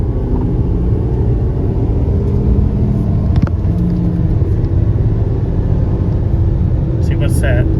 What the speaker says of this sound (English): Try to gear down to third and see where that puts us at 60 miles an hour.